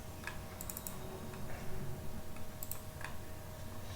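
Computer keys click in a quiet room during drafting software work, with a couple of short bursts of quick taps followed by a single firmer keystroke, close and crisp over a faint background hum.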